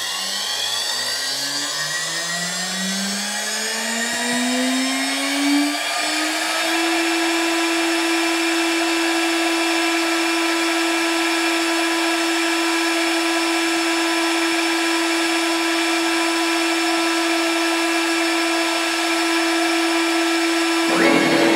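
A CNC router bit spinning up and cutting a mylar frame for a Bluetooth planar speaker, a loud steady high whine that rises in pitch over the first few seconds and then holds constant, with dense harmonics and no talk.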